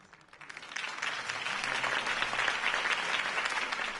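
Crowd applause after Harvey Dent's campaign speech in Batman: The Telltale Series video game, clapping that swells from quiet to a dense, steady roar of many hands, heard alone for several seconds.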